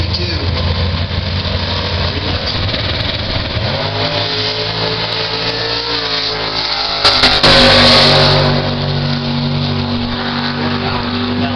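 At a bracket drag race, a 1956 Chevy wagon and a 1963 Chevy II roar together with loud, steady engines, then rev higher as they launch. The sound is close, continuous and heavy, with no talk over it.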